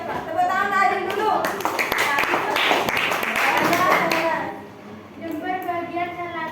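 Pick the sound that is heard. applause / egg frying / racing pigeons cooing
applause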